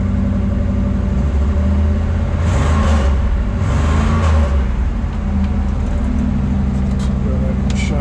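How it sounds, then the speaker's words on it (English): A 1967 Camaro RS/SS convertible with a 396 V8 and four-speed, not fully warmed up, revs in two loud rising bursts over a steady rumbling idle, close to the car. "Here one more time as we rev it up"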